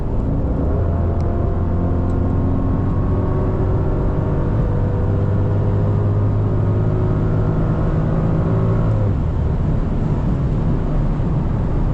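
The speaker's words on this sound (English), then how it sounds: "Now, I haven't given this thing full throttle yet, but here we go." A vehicle engine is driven at full throttle on an open highway in Mexico, giving a loud sustained drone whose pitch climbs steadily before easing off near the end.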